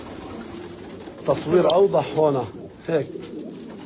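Pigeons cooing outdoors in a bird-keeping setting, a few soft low coos under close talking by a man.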